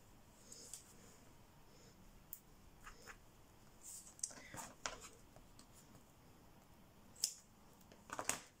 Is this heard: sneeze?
no